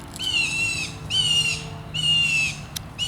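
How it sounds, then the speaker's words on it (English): A bird squawks outdoors, three loud, drawn-out harsh calls in a row with short gaps between them, near and clear over faint background ambience. "there's a bird making a wild noise"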